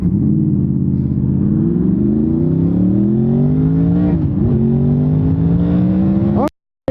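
A Honda VFR800 motorcycle engine revs steadily upward as it accelerates, a loud close drone with rising pitch, a brief dip near the middle, then climbing again before cutting off abruptly.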